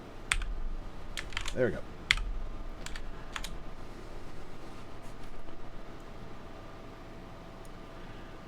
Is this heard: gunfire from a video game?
no